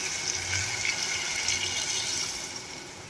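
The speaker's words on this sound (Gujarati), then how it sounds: "તો હવે આપણે એમાં પાણી એડ કરવાનું છે।" Water is poured steadily into a pan of spiced tomato curry for Kathiyawadi-style sev tameta shaak, a continuous close gushing splash lasting about three seconds with no talking.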